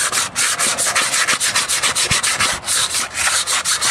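Steady rhythmic rubbing of abrasive paper against a rusty metal brake drum, close and loud, repeated back-and-forth strokes with no pause and no talking.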